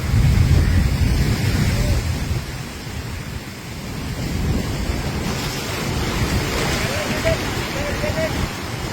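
Sea waves surge and crash against the shore at Chellanam-Kannamali, a loud continuous roar with heavy wind buffeting the microphone and swelling surf throughout.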